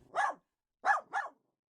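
A dog barks three times, one bark then a quick pair, sharp and close against silence.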